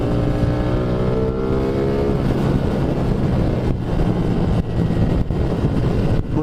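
A motorcycle pulls hard under acceleration in race mode, engine note climbing in pitch through the rev range, heavily mixed with loud wind rush across the microphone.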